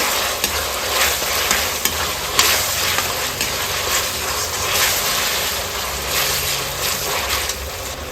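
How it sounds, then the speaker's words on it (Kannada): Chilli chicken frying in a pan as cornflour water is poured in, giving a steady, loud broadband sizzle with constant stirring and scraping throughout, no voices. "ಈಗ ನಾವು ಕಲಕಿ ಇಟ್ಕೊಂಡ ಕಾರ್ನ್ಫ್ಲೋರ್ ನೀರನ್ನು ಹಾಕೊಳ್ಳೋಣ"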